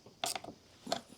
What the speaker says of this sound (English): Love these little ratchets. Got a hex on one end, 1/4 inch drive on the other.